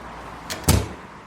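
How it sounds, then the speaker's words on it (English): A front door closing at home, with one soft contact followed by a solid, close thud. "I close the door and fall to the ground."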